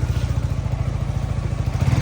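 A Yamaha R15 motorcycle idles close by as it is loaded onto a vehicle, its engine putting out a steady, rapid low throb with faint clatter over two seconds.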